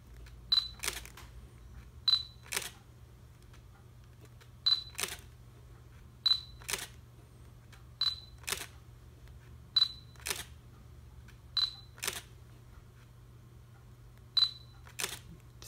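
A Fuji X-T20 camera gives a short high focus beep followed by a crisp shutter click, repeated about nine times at uneven intervals in a quiet room.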